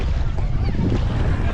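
Strong wind blows by the Sarayu river in Ayodhya, buffeting the microphone with a loud, continuous low roar and rushing noise for the whole brief moment.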